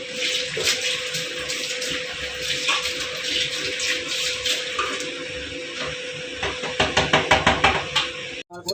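Dishes washed at a kitchen sink, with running tap water rushing steadily, light clinks of utensils and a quick series of rhythmic knocks and scrubs near the end.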